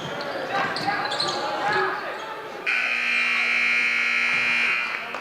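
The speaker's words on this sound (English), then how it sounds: "Buzzer beater attempt by Ivanovic does not find the hoop." A long electronic game-clock buzzer sounds loudly at the end of the third quarter of a junior varsity boys' high school basketball game. It holds steady over gym crowd noise and sneaker squeaks, with an announcer talking in the background.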